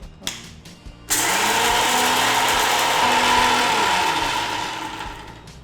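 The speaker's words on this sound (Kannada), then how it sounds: "ಫಸ್ಟ್ ಹುರಿಗಡ್ಲೆ ಹುಡಿ ಮಾಡುವ, ಮಿಕ್ಸ್ ಹುಡಿ ಮಾಡ್ಕೊಳ್ಳಿಕ್ಕಿದ್ಯಾ?" A kitchen mixer grinder powders roasted gram (hurigadle). A few small knocks come first, then the motor starts abruptly into a loud, steady whirring grind that holds for several seconds before easing slightly.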